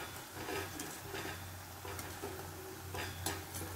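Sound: chakli (murukku) dough frying in oil

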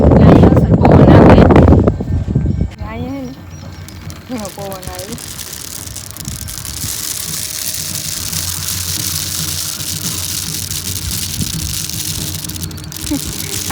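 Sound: wind blowing

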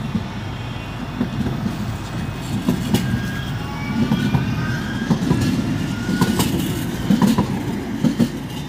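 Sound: tram passing by

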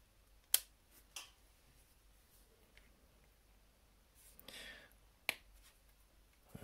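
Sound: clippers cutting plastic model part off the sprue

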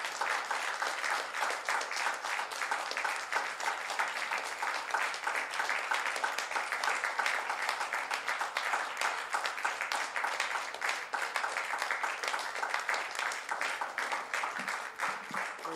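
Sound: congregation applause, hand clap of praise

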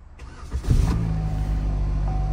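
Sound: Buick LaCrosse Hybrid car engine starting

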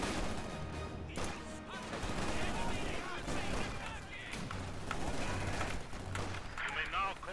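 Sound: mortar fire in Company of Heroes 2 video game

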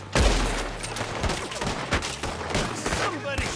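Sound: gunfire in the video game Red Dead Redemption 2

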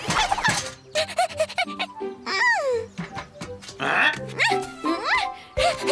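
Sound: dog barking in a cartoon

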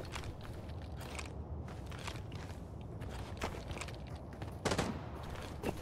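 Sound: gunfire in the video game Arena Breakout Infinite

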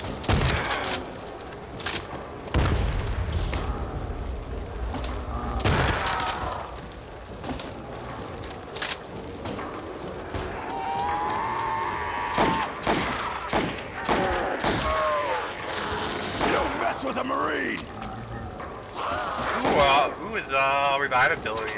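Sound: grenade explosion in a Nazi Zombies video game

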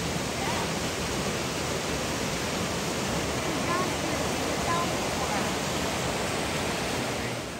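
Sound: water flowing at a swimming hole on Foothills Trail

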